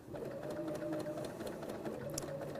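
A sewing machine stitches a curved seam in fabric, a quiet, steady rapid mechanical whirring and clatter running throughout with no speech.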